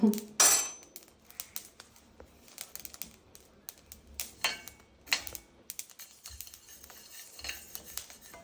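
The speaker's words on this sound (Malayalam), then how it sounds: "ഒന്നുകൂടെ പൊട്ടി തുടങ്ങി." Green chilies fry in a pan with sharp irregular pops and crackles, an initial loud burst followed by scattered close spluttering snaps and light clicks, no voices.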